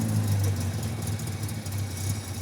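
A 1967 Triumph Spitfire race car engine idles with a steady low rumble and a slight uneven throb, close and continuous for the whole stretch.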